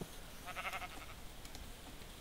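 A single sheep bleats faintly in the Minecraft video game, one short wavering call heard alone with a quiet background.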